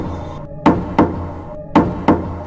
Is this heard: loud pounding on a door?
yes